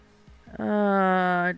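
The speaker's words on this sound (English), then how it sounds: "needy kitten is meowing" Kitten meowing in the video game Vintage Story, a single clear, drawn-out tonal meow lasting about a second, close and prominent after a couple of soft lead-in chirps.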